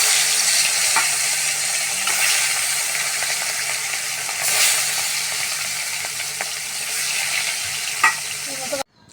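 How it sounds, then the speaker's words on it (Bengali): Rohu fish frying in hot oil in a Sylheti home kitchen: a continuous close sizzle with occasional scraping stirs and light clicks, ending with a sudden clatter and cut. "তেল তো গরম হয়ে গেছে, মাছটা দিলাম।"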